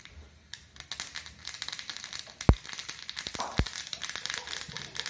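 Mustard seeds and urad dal sputter in hot oil for tempering bottle gourd raita, giving a faint, continuous crackle with scattered sharp pops and a couple of louder snaps.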